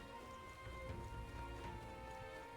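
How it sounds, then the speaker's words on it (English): Steady rainfall in the video game Metaphor: ReFantazio, a soft continuous hiss of drops at low volume, heard alone without voices. "Rain."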